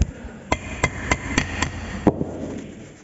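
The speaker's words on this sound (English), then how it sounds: "just take a plastic mallet and smack it all around until it's fully seated there" A plastic mallet smacks a brake part into place on a JCB 4CX Eco backhoe loader during a brake disc and seal replacement, giving six sharp, close knocks in an uneven rhythm with no talking.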